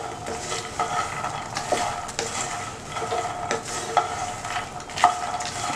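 Phool makhana (fox nuts) being stirred and fried in a pan, with a steady, close sizzle and repeated scraping and clinking of a spoon against the pan, no one talking.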